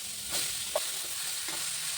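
Whole spices frying in hot oil for a fish curry, a bright steady sizzle with a few soft stirring scrapes and a small clink, close and fairly quiet.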